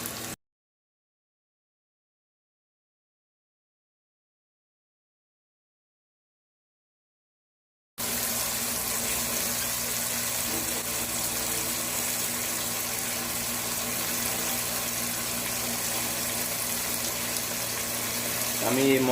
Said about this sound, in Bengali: আমি মশলার ইয়েতে বাটিটাকে ধুয়ে দিয়ে দিলাম